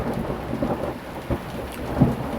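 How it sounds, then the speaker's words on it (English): Thunder rumbles low and steady through a rain shower, with a couple of deeper swells and one sharper crack near the end, continuous and moderately distant with no voices. "it's gonna rain, just thunder"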